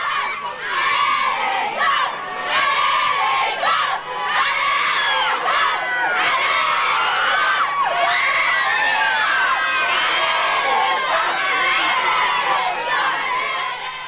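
A crowd of town children cheers and sings to welcome the Scotland players at the 1998 World Cup, high excited voices shouting and chanting together, loud and close, carrying on continuously with only brief dips.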